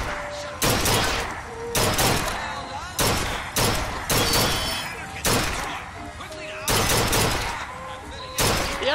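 Gunfire in the video game Bioshock Infinite, loud repeated bursts of rapid shots in clusters separated by brief pauses, close and dominant.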